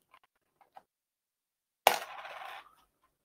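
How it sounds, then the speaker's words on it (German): A coin is tossed and lands with a sharp metallic clink, then a brief ringing rattle as it settles on a hard surface, preceded by faint small taps in an otherwise quiet room. "Oder ganz klassisch hier die Münze werfen?"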